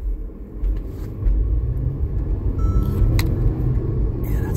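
An all-wheel drive car with a thumping rear and a slipping transmission drives along, a steady loud low rumble of engine and road noise with a few faint higher squeaks and no talk.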